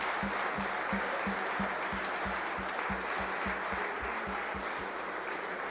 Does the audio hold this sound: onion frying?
no